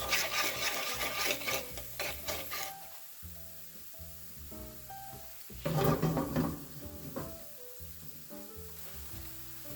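Chicken stir fry with soy sauce stirred in a hot pan: continuous sizzling with rhythmic scraping and rubbing of a utensil against the pan, close up and without speech.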